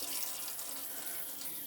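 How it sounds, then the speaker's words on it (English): Water runs steadily from open hot-side taps inside a 2012 Coachman Olympia 520/4 caravan, a continuous close hiss of flowing water with no talk. "you'll come over to every tap on board the caravan and open all the taps up on the hot side of the water heating"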